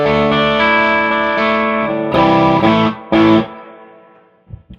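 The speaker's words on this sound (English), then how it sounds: "we can get lighter distortion textures with it" An electric guitar played through a WMD Arcane preamp pedal set for light distortion rings out in loud, sustained chords, with two sharp strummed hits near the end before the notes fade and a few faint string noises follow.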